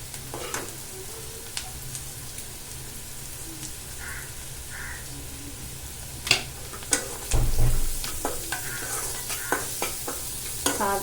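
Turmeric sautéing in a pan for egg rice gives a steady close sizzle, with sharp spatula scrapes and clacks growing busier through the second half.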